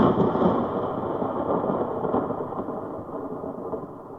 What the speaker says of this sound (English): I'm more worried about that thunder.